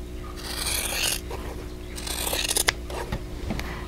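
Scissors snip and rasp through cotton quilt fabric, trimming the outer corners off a vintage Basket of Diamonds quilt block, with a steady run of close cutting and rubbing sounds and no talk.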